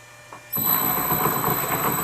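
A metal lathe in back gear makes a 3 mm wide parting cut with a parting blade on a long stick-out. A loud, continuous ringing chatter starts abruptly and holds steady up close.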